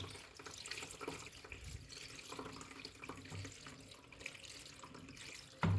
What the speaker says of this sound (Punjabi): ਠੰਡਾ ਪਾਣੀ ਪਾਵਾਂਗੇ